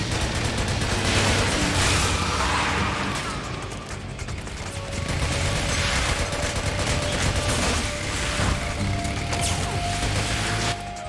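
Sustained gunfire in the stealth-action game Metal Gear Solid 4, dense bursts and crashes filling the scene continuously with a steady loud level and some mechanical clatter.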